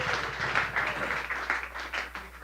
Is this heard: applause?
yes